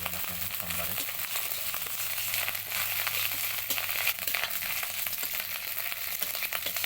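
Onions fry in a pan for a leafy greens curry, giving a steady close sizzle with faint crackles and occasional stirring, and no speech over it.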